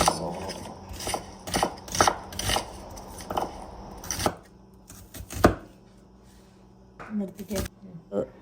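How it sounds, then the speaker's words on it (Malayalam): Onions being chopped with a knife for ullivada, onion fritters, a run of sharp, uneven blade strikes on a cutting board, bunched in bursts with short pauses, fairly close and moderately loud, under a steady background hum with no talk. "അപ്പോൾ നമുക്ക് സവാള അരിയാം"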